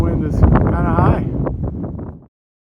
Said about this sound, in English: As you can probably see, the wind is kind of high.